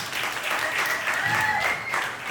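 An audience at a stand-up comedy show breaks into sustained applause, a close, even wash of clapping with a faint whistle riding over it.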